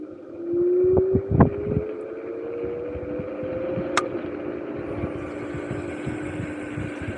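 A GYROOR C1S electric sit-down scooter rides at second speed, its motor whine rising slowly in pitch under wind buffeting and rolling rumble, with a few brief knocks near the start.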